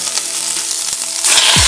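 Food frying in a pan turned down to low heat makes a loud, continuous sizzle that swells further near the end as more goes into the pan.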